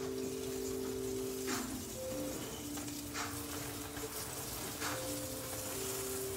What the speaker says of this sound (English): we just want to get a nice brown on the liver